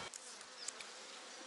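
Honey bees sit quietly in an opened hive with the honey super lifted off, giving a soft, steady, low-level hum with a couple of faint clicks, near and alone.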